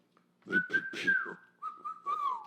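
A person whistles a short tune, a few rising notes in a row, then a sustained, slightly wavering tone, close and clear, with no talking.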